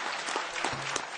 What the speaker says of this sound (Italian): Chi vuole applaudire è libero di applaudire.